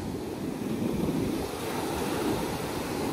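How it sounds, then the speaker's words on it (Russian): Atlantic Ocean waves off Long Island after a hurricane roar as a continuous, loud surf with wind buffeting the microphone. No talk is heard. "Такие волны классные"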